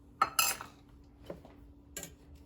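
A brown sugar rub for pork belly being stirred in a bowl, a few distinct clinks and scrapes of a utensil against the dish with quiet gaps between them, close by and without talk.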